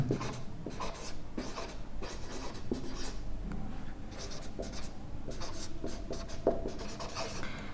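Pen or pencil writing by hand on paper during a grammar lesson, a continuous scratchy rubbing with short strokes and pauses, close and fairly loud, with no talk.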